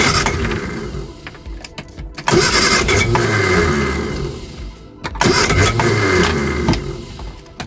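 A Reliant SuperVan engine being revived cranks and catches twice, each start loud and close, then settles into a rough idle between the attempts.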